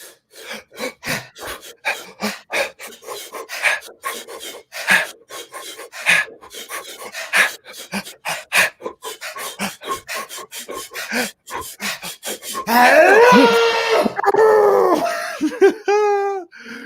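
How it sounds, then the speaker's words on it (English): Rapid, rhythmic breathing in and out during a guided breathwork exercise, sharp quick breaths repeated steadily and close, then a louder strained, wavering exhale at the end. "hand on the chest, hand on the stomach, and begin breathing in"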